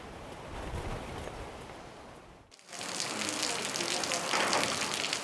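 Steady rain falling in a rural mountain valley village on a wet day, a dense hiss that is softer at first, pauses briefly, then returns louder and brighter and continues without voices.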